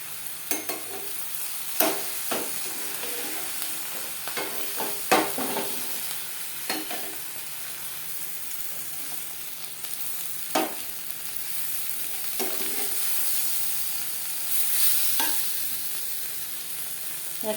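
Fish paturi cooking in a covered pan over low flame, a soft, muffled sizzle under the lid, broken by several sharp clinks and scrapes of utensils at irregular intervals.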